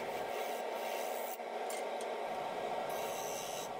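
A skew chisel cuts a spinning wood-and-resin blank on a lathe, giving a steady, close rasping hiss that runs throughout with only brief dips.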